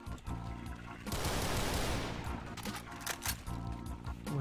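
Gunfire in Project Brutality Doom 2 against a group of enemies, a sustained loud roar of shots swelling in the middle, followed by several sharp separate blasts.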